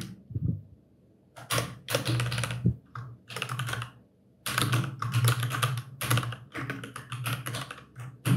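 Someone types code on a computer keyboard in quick bursts of close, crisp key clicks, with short pauses between runs.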